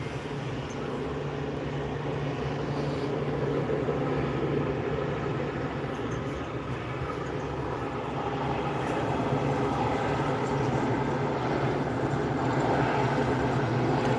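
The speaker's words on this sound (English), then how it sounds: "That is a Cessna 560XL Citation XL." A Cessna 560XL Citation XL business jet at SNA airport gives a steady, broadband jet roar that holds constant throughout, heard from a distance without talk.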